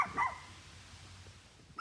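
A dog barks briefly at the start, a couple of quick yips, somewhat distant and faint, followed by quiet background in an outdoor garage setting where brakes are being worked on.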